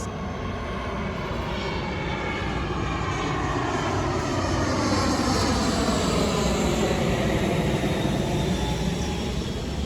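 A fixed-wing airplane passes overhead near the sea, a steady broadband engine roar that stays loud and constant throughout, with no talking.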